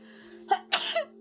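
A single sharp sneeze-like burst, then a second longer explosive expulsion of breath, close up over a steady low electrical hum.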